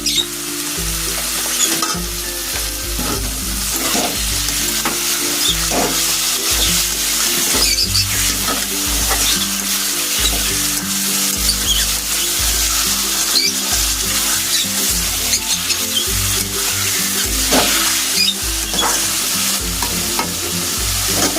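Capsicum chicken curry frying in a pan, a loud, continuous close sizzle with regular scraping and stirring strokes running throughout, with no talking.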